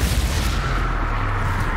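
A spell explosion in Hogwarts Legacy, cast during a miniboss fight, gives a sustained, heavy rumbling roar that fills the whole stretch evenly and loudly, with no voices over it.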